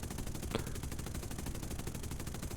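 Rapid defensive machine gun fire from a bomber's gunner turrets in War Thunder, a steady dense rattle of shots running throughout at moderate loudness, with no talk.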